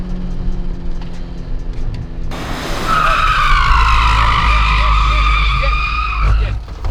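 A car drifting on a race track during a drifting course, engine droning before a loud, sustained tire squeal erupts and wails for several seconds, wavering in pitch, with a voice speaking under it.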